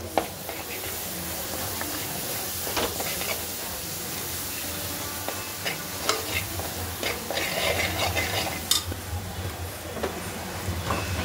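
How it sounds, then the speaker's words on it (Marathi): Steady sizzling of coconut masala paste frying in a pan, with a spoon scraping and stirring through it at irregular intervals; no voices. "हे चांगलं मसाल्यावरती परतून घ्यायचं"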